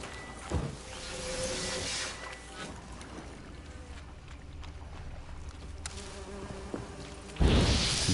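A dense swarm of bees buzzes steadily in a swampy orchard in The Witcher 3 video game, a continuous insect drone beneath game ambience, with a louder burst of sound near the end.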